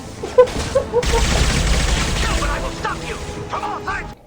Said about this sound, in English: Jacob, if you don't get out of the way, I'm gonna shoot you down.